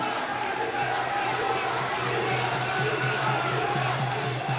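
Spectators at a Muay Thai fight night chant in unison behind a steady wall of arena noise, the crowd sound dense and continuous with a commentator's voice faintly over it.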